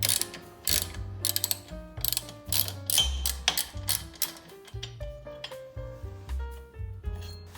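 A ratchet wrench works on a bolt of a 1993 Honda Transalp motorcycle, giving a close, steady run of quick clicking strokes in short bursts with brief pauses between them.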